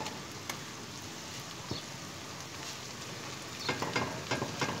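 Chopped tomatoes frying with garlic and ginger in a pan give a faint, soft sizzle, with a few light stirring clicks near the end.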